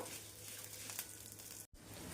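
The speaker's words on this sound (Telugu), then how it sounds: "ఇప్పుడు ఎండుమిరపకాయలు కూడా అన్ని కరివేపాకు మంచిగా వేగిపోయినాయి" Dry red chillies and curry leaves fry in a pan for a chicken fry spice powder, giving a steady close sizzle and crackle with no talk.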